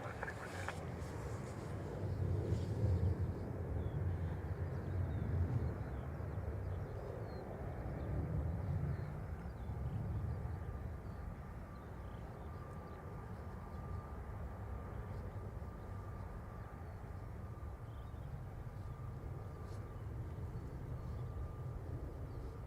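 Aer Lingus airliner from Zurich landing at Dublin Airport in a crosswind, a distant jet roar swelling and fading over steady outdoor wind noise, heard from afar and fairly faint.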